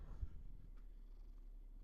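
A domestic cat purrs close by, a faint but steady low rumbling pulse that continues throughout.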